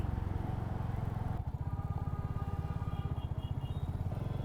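A Royal Enfield Hunter 350 motorcycle engine thumps with a steady, rapid low pulse while riding through traffic, close and continuous, with faint road and vehicle noise around it.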